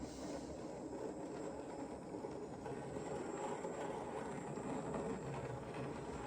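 A Graham Farish Western Rambler model train, a small branch-line locomotive with its coaches, runs past on a layout, giving a steady low rumble and whir that keeps an even level throughout with no talk.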